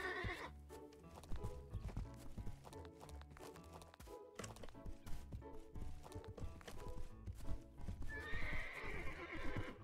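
A horse in an animal shelter video game whinnies and clip-clops with rhythmic hoof beats, layered over busy game sounds and music, fairly loud and continuous.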